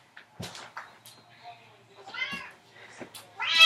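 An unhappy house cat meows and caterwauls in several drawn-out, rising cries while being lifted and curled like a weight, with a person talking between the cries and the loudest wail at the end.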